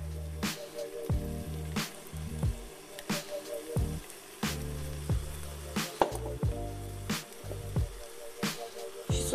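Bell pepper frying in a hot pan for pork goulash with paprika and carrot, a steady crackling sizzle broken by sharp stirring clatters and scrapes of utensil against the pan.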